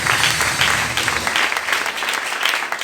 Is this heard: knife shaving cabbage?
no